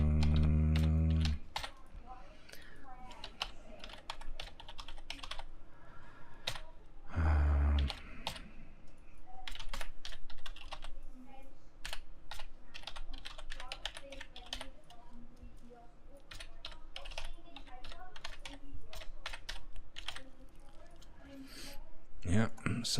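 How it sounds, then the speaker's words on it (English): Keys on a computer keyboard clatter in irregular bursts of quick clicks, some fast runs and some pauses, close to the microphone with occasional heavier thumps and a voice talking at moments. "I'm not the fastest typer in the world."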